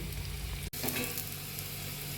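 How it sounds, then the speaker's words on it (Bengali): Jackfruit kofta balls frying in hot oil, a close, continuous bubbling sizzle with one brief dropout. "এইভাবে আমি বলসগুলো দিয়ে দেব, দিয়ে ভেজে তুলে নেব"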